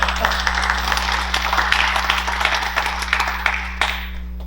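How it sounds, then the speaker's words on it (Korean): Audience applause at an academic society conference, a dense, steady patter of many hands clapping close by for several seconds, with a low steady hum underneath. "한번 박수 한번 쳐주십시오"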